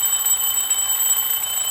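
An alarm clock rings continuously in a thin, steady high-pitched electronic tone, loud and unbroken for the whole moment with no talking.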